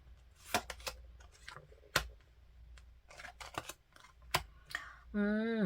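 Tarot cards are handled and laid out on a surface, making soft scattered taps and slides at close range, with a short rising electronic tone at the end.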